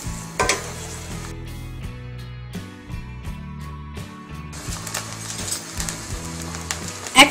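Chopped garlic for a Bengali garlic pickle is stirred and fried in oil over a medium flame. A soft, steady sizzle runs with occasional spoon scrapes against the pan, partly under background music.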